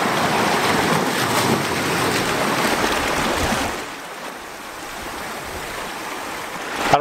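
Sea waves wash and break against coastal rocks in a steady, dense roar, loud and close for about four seconds before easing into a softer, more distant surge.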